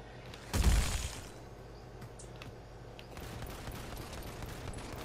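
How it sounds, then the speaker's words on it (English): Defensive guns firing in the giant-monster strategy game Mechs Versus Kaijus, with one sharp, loud blast followed by faint, scattered shots and crackles over a quiet background. "Now we're shooting faster."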